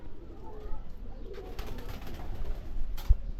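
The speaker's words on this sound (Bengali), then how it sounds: "আর এখানে হচ্ছে কিছু কবুতর আছে।" Pigeons coo softly at a pigeon farm, low rounded calls close by with some faint background rustle and a brief knock near the end.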